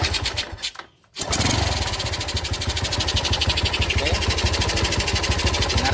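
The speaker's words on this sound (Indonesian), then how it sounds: "Kita tinggal untuk cek suara mesin apakah bisa halus ya, atau sudah hilang suaranya glodok-glodoknya tadi, atau masih bersuara." A Yamaha Jupiter Z motorcycle engine runs after a clutch repair, briefly dropping out before settling into a steady, rapid putter at close range, loud and continuous with no talk over it.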